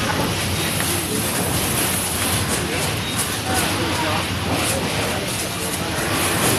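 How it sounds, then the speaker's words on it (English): A loud, steady rumble of a train, constant and close, filling the whole stretch with broadband roaring noise. "There's a train coming."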